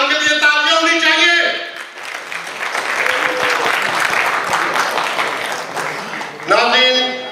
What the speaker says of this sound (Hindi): अफजल खान के लिए तालियां होनी चाहिए